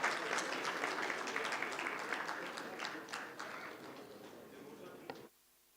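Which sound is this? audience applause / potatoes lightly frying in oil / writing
audience applause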